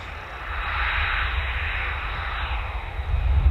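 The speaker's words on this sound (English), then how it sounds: "our second F35B is coming out as well to join the flight." F-35B Lightning jet taxiing out at RAF Marham, a steady loud broadband engine roar with a high whine, heard from a distance and holding even throughout.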